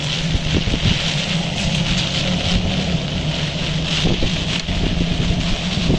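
Floodwater rushes fast under a bridge at Thondaimanaru during a cyclone while strong wind buffets the microphone, a steady loud roar with no break.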